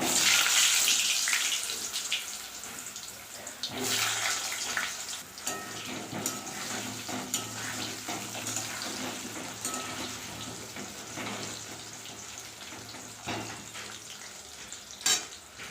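Bay leaf, cardamom, cinnamon and other whole spices fry in hot mustard oil, giving a steady close-up sizzle with crackles and a few stirring clinks, loudest at the start and continuing throughout.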